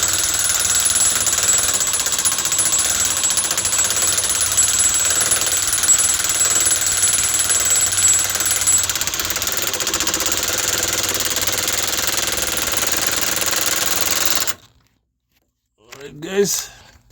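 A power tool runs at low speed tightening the rear shock bolts on a 2010 Mazda 3, a loud, continuous rattling hammer close by for about fourteen seconds, then it stops and a short voice follows.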